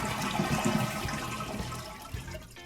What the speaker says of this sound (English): Third step is to drain your water out the toilet tank.